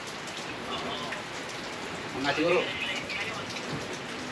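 Heavy rain falls steadily at a house, a soft, constant hiss in the background under quiet conversation.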